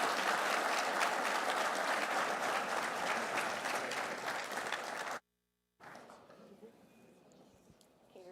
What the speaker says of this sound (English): Let's give another round of applause for an excellent conversation, please.